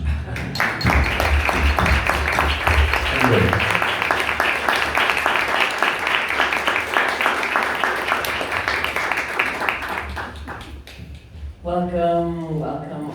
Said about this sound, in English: Please welcome her with an applause.